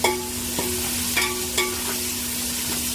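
Onions fry in a pan for khichuri, a steady close sizzle with a faint hum, broken by a few sharp scraping clicks as the spatula stirs them.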